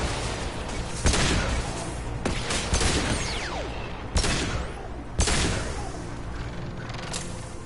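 Turret gunfire in the video game Mass Effect 2, with loud repeated bursts of shots and booming impacts in uneven rhythm over continuous battle noise.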